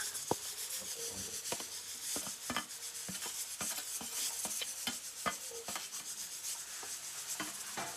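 Dal being tempered in hot oil and stirred, with a faint steady sizzle under repeated rubbing, scraping spoon strokes against the pot, quiet and close.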